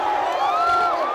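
Stadium crowd erupting in loud sustained cheering and whooping after an equalising own goal by Iceland at a Hungary football match, a dense continuous roar with rising shouts.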